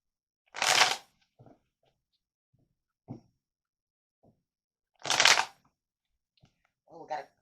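Tarot cards shuffled by hand in two loud riffling bursts a few seconds apart, with softer taps and card handling in between and brief quiet talk.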